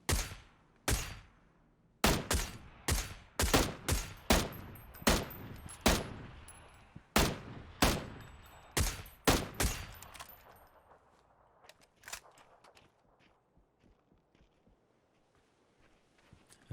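Rapid bursts of automatic gunfire in the shooter game PUBG, a dozen or so sharp cracks in quick succession, loud and near at first, then fading to scattered distant shots.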